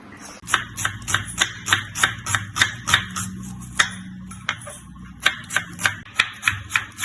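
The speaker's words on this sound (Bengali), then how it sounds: "এবার আমরা পেঁয়াজগুলোকে কুচি কুচি করে নেবো" Onions being finely chopped on a board with a knife for a fish curry, a quick steady run of crisp, close knocks with a brief pause midway before the rhythm resumes.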